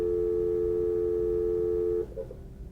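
Telephone dialing driven through a computer telephony API from Excel VBA, heard as a steady electronic dial tone holding for about two seconds before cutting off, followed by faint clicks and line noise.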